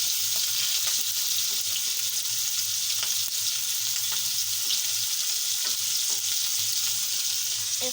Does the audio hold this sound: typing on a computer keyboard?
no